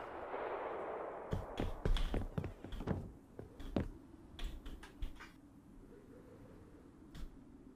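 Rapid gunshots in the video game Rust crack in quick irregular bursts, sharp and punchy, then thin out to a single late shot.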